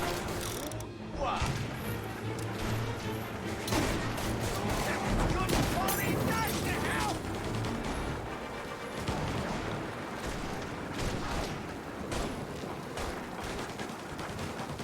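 Gunfire in the crime game Mafia: Definitive Edition crackles in repeated volleys and rapid bursts, mid-distance and fairly busy, with someone talking over the shooting.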